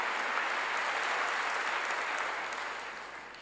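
A large church congregation applauds steadily, a dense wash of clapping that holds even for a few seconds and then gradually fades.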